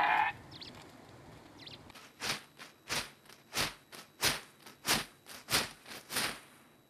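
Sheep bleat in a quick run of about eight short calls at a steady pace, fairly close, over a faint rustling background with no speech.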